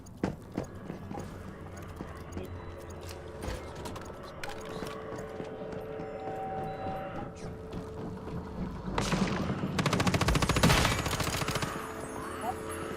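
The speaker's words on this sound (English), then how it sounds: "I got a purple SMG, man. I gotta use it." Rapid bursts from a purple SMG in the survival shooter Once Human, loud staccato gunfire that builds to a dense, sustained volley near the end amid busy game sounds.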